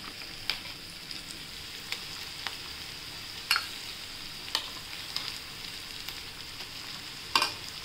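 Ground masala paste with coriander sautéing in a pan, with a steady soft sizzle and occasional sharp clinks and scrapes of stirring, close and moderately quiet, no talk.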